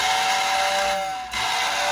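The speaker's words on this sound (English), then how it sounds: "Whistle." A Lionel model train Berkshire locomotive whistle, run from a Lionel 1033 transformer, gives a loud, steady, airy hiss close up that dips briefly and then resumes, with no talking.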